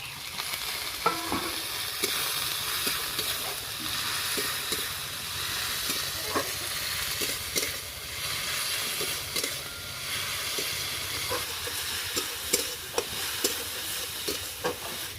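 Chopped tomato frying alongside cauliflower and egg in a Bengali home kitchen, a steady close sizzle with scattered stirring scrapes and clicks running throughout, no voices.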